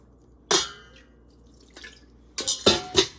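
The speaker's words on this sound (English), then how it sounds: "we can start adding some water, and I do warm water" Warm water goes into a yogurt dough for no-yeast mini cheese buns in a home kitchen, heard as a few short, splashy bursts separated by quiet pauses.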